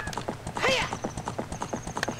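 Hooves of a horse in Zelda: Ocarina of Time clip-clop in a quick, regular beat alongside a short whinny, fairly quiet under game music.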